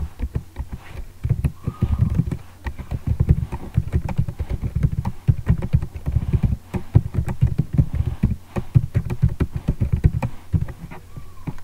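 Steady typing on a computer keyboard while entering HTML code, with a continuous run of close, crisp key clicks in an uneven rhythm and no talking.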